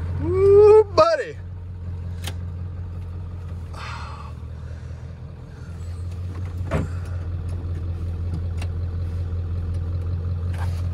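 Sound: 1996 Ford F-250 7.3L turbo diesel engine running after cold start

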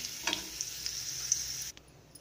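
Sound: raisins frying in a pan

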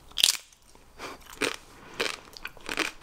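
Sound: crunching tortilla chip with guacamole

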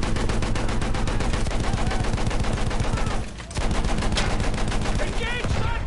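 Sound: heavy gun fire in video game Steel on Steel

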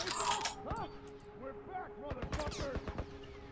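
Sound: gunfire in the video game The Last of Us

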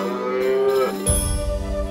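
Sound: cow mooing in the video game South Park: The Stick of Truth

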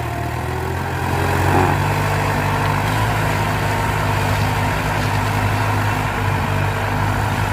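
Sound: Ford New Holland 7610 tractor engine running

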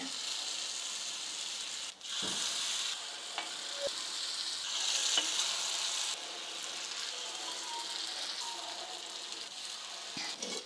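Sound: rava paddu batter frying and sizzling in the pan

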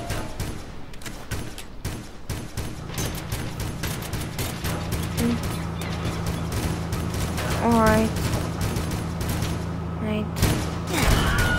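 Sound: battleship guns firing in a naval battle video game

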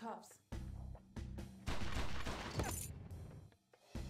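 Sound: gunfire in the video game XIII

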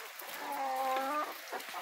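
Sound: Embrapa 051 chickens clucking while being fed

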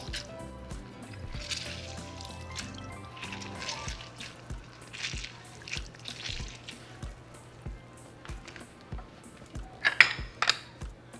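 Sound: squeezing an orange into a large bowl for juice

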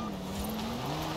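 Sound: Land Rover driving fast in video game Forza Horizon 4

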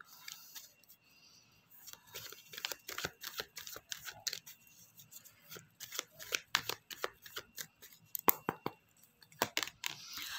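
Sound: tarot cards being shuffled and drawn

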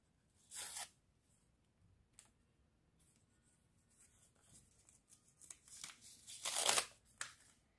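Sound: opening a paper surprise packet

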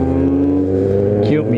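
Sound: Mazda Miata car passing by

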